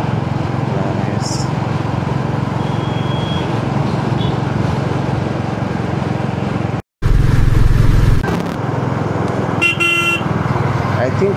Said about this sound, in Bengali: হাইওয়েতে আমার চালানো বেস্ট বাইক এটাই